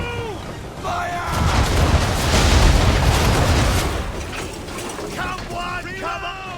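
Ship cannons firing in Assassin's Creed III naval combat, deep booms and rumbling blasts rolling through amid creaking rigging and mechanical clatter, with shouted voices before and after the barrage.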